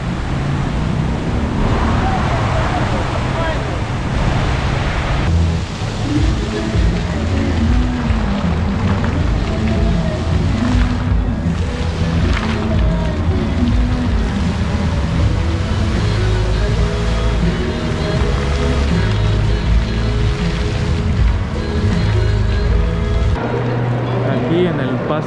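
A small passenger launch crosses the water at the Coatzacoalcos, Veracruz boat crossing, giving a loud, steady rush of engine drone and churning water throughout, with background voices mixed in.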